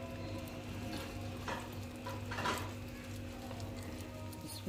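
Egg and cheese paratha laid gently onto a hot pan gives a steady low sizzle and crackle, with a few soft bumps and scrapes of handling near the start and middle, fairly quiet and without talk.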